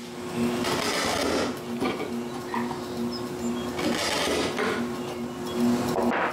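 A drill bores holes into wood for a mortise in a large door frame, a steady droning motor whine with a sustained hum broken by short pauses and surges as the bit plunges, close and fairly loud.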